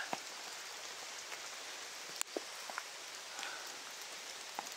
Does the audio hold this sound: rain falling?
yes